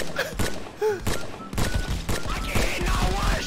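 Bursts of rapid gunfire and sharp shots ring out in the VR shooter Contractors VR, loud and close, with dense overlapping volleys and a few thuds, while players shout over the chaos.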